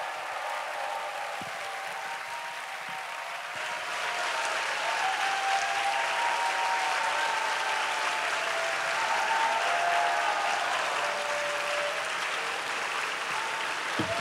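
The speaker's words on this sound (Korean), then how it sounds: "기대되는 만큼 우리 큰 박수 함성으로 환영하도록 하겠습니다" Loud, steady applause mixed with cheering from a church youth congregation welcoming a guest speaker at an anniversary worship service, rising after a few seconds and holding strong for the full length with no talking.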